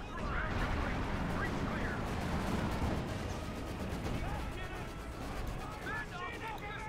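Priest self-propelled artillery in Company of Heroes 2 firing amid battle, dense booming blasts and rumbling impacts layered over constant gunfire, with a commentator talking over the din throughout.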